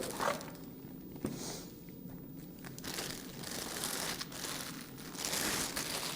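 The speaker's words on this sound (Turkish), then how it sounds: "ürünün poşetlenmiş halde kendisi çıkıyor" A plastic bag crinkles and rustles as a rechargeable touch-control LED desk lamp is unpacked, with a few brief crunchy handling bursts and quieter rustling between them, close and without talk.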